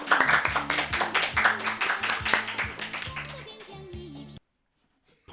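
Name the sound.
audience applause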